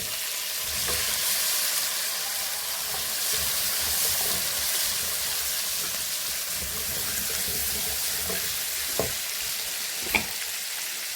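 Shallots and green chillies frying in a pan for a prawn-head curry, a steady broadband sizzle throughout with a couple of sharp clinks of a spoon against the pan near the end.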